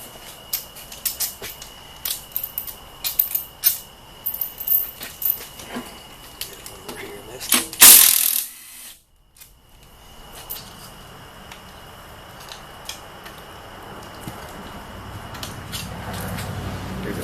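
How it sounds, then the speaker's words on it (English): A ratchet removes the bolts around the rear cover of an automatic transmission being taken apart in a backyard. Bursts of close, rapid clicking repeat for about eight seconds, then one loud scraping rasp is followed by quiet outdoor background. "I'm taking this rear cover off next. Just taking the bolts off around the perimeter."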